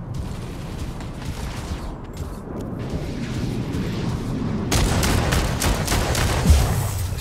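Mech weapon fire and mechanical combat noise from the Mech Arena video game, a dense rumbling barrage of shots and booms that grows louder and busier partway through, with no talking.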